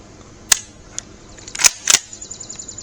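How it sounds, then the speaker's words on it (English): Dry-fired Remington 141 Gamemaster pump-action rifle: a sharp metallic click, then a lighter tick, then two loud crisp snaps of the action close together, up close with no talk. "Now we can test the action, and obviously it's clear, so I'll dry fire it"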